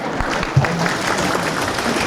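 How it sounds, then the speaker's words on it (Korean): Audience clapping fills a lecture hall in Los Angeles, a dense, steady patter of many hands that keeps going throughout at moderate loudness, with no voices over it. "두세 시간 동안이나 얘기했는데 이제야 박수를 치네요"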